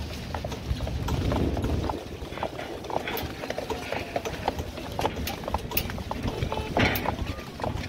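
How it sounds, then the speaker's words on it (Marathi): Horse hooves clip-clop steadily during a ride along a beach, a quick rhythmic patter at moderate distance with surf-like background noise and someone talking over it. "आपली घोडा रायडिंग झालेली आहे."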